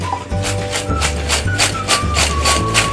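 French fries seasoned with salt and pepper are shaken in a container, producing a loud, regular rattling and rustling in quick repeated bursts, close up with no talking.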